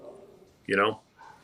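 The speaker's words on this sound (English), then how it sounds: "dogs growling and barking in the background" A single short dog bark rings out near the microphone amid quiet background noise, with a faint sound following.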